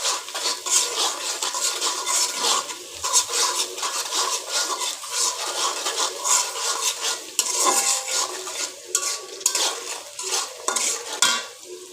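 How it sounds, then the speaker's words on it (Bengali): Garlic frying in a pan for olive pickle, with a utensil scraping and stirring steadily throughout; close, continuous sizzle under clattering scrapes, no talking. "ওইখানে দেখতে পাচ্ছেন আমার রসুনটা একদম ভাজা ভাজা হয়ে যাচ্ছে।"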